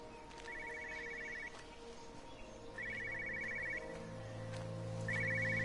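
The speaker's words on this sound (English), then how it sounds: "I hear a phone ringing." An old 1980s-style telephone rings in the video game Everybody's Gone to the Rapture, sounding three trilled bursts with pauses between them over a low background music drone.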